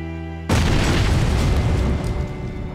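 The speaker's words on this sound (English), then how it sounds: "a guy throws a grenade at you" A grenade detonates in the PUBG video game with a sudden, loud, close boom that cuts in after a brief quiet stretch. The blast's heavy roar then holds steady for about two seconds.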